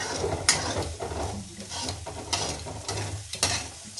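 A spoon stirs poha with peas and a pinch of salt in a pan, giving scraping, clinking strokes against the metal over a soft sizzle, repeated in an uneven rhythm, close and clear with no talk.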